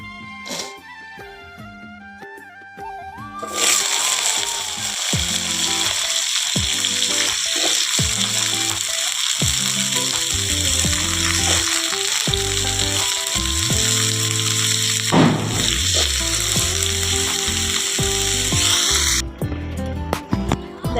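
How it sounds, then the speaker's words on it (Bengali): Dried chili and five-spice tempering hit hot oil in a wok on a clay stove, bursting into a loud, steady sizzle that crackles on for most of the stretch with clanks of stirring. "তেল দিয়ে দিয়েছি দেখো কড়াইতে, ফোড়নে দেব লঙ্কা আর 5 ফোড়ন"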